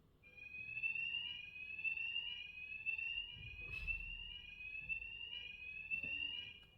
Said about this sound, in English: thankfully, it was a fire alarm